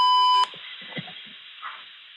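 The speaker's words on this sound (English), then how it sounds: "This is the address being beeped out." A steady censor beep covers part of a recorded phone call for nearly half a second, then cuts off to leave muffled, faint telephone speech.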